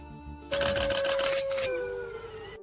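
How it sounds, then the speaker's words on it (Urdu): A jackal's howl plays as a cartoon sound effect in a children's story, a sustained tonal cry that slides downward. A burst of rattling, jingling noise sits on top of it for about a second before the howl fades out. "گیدڑ شور مچاتا رہا۔"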